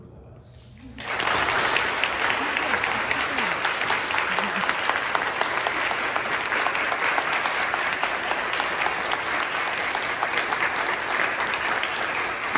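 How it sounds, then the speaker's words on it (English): Sustained, loud applause from a roomful of people at an employee scholarship ceremony, beginning after a brief quiet moment and continuing steadily with dense clapping and some crowd noise. "everybody in this room deserves one more wild round of applause"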